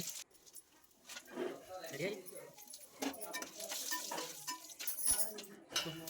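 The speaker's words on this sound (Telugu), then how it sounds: "బిర్యానీ సామాన్లన్నీ వేసుకొని వేపుకోవాలి." Biryani whole spices frying in the same pot that earlier held eggs for egg pulao, with steady sizzling and spoon stirring scrapes close by, faint, while a voice speaks throughout.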